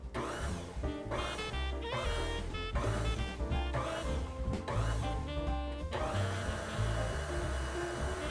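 Stand mixer pulsing chocolate peppermint cupcake frosting with powdered sugar on its lowest speed, a continuous loud motor whir with short surges, alongside tonal music.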